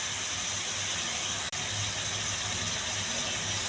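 Whole spices such as cinnamon, cloves and bay leaf frying in hot oil for chicken curry, with mint and curry leaves: a dense, steady hiss of sizzling oil, close and constant, with a single brief dropout.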